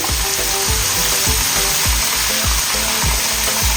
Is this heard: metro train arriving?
no